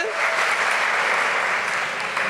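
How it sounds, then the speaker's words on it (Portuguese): Applause fills a packed hall at a national patients' meeting, a dense, even roar of many hands clapping together that stays loud and unbroken throughout. "Uma salva de palmas para todo mundo que acordou cedo hoje."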